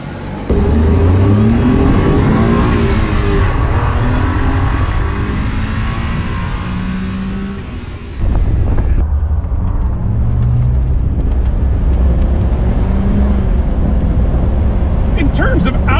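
A classic or exotic car revs hard at wide open throttle, its engine note climbing in loud sweeping pitch rises, briefly dipping before a second sustained high-rpm pull, close and dominant throughout.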